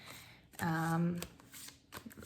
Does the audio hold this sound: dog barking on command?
no